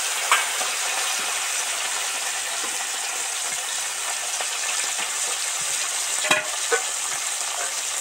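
Fish deep frying in hot oil seasoned with turmeric for a Bengali fish curry with cauliflower, a steady dense sizzle throughout with a few sharper spits and crackles near the end, close and alone.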